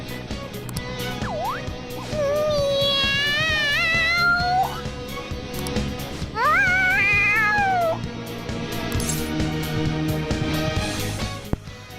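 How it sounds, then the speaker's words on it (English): Morgana, the cat in the video game Persona 5, meows excitedly in long, wavering, insistent cries, two drawn-out yowls separated by a short pause, loud and close over background game music. "The cat's acting awfully excited."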